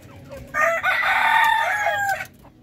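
A rooster in a coop crows once, a loud, clear cock-a-doodle-doo lasting well over a second before trailing off, with faint farmyard background.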